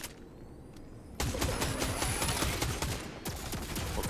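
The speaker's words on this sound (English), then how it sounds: "I'm gonna shoot the gun turret first." Rapid automatic gunfire at a gun turret in Fortnite, a loud close burst of rattling shots starting abruptly after a quiet second and running about two seconds before cutting off, with lighter shots trailing.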